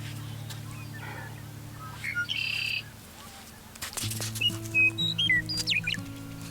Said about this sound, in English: it was some sort of natural reserve or something, which was incredibly obvious the minute I stepped outside just based on how many birds there were